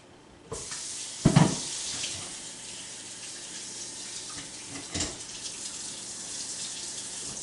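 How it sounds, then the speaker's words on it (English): A kitchen tap runs in a steady hiss as chicken soup ingredients are rinsed under it, starting abruptly, with a couple of louder splashes and knocks near the sink and no talk. "Rinse that off."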